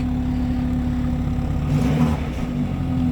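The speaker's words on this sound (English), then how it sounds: "You can hear our little turbo." A BMW 328i sedan with a twin-turbo engine runs at a steady mid-range hum, rising briefly in a short rev before settling back to an even drone, heard close and without talk.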